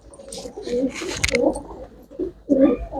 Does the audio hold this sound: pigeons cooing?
yes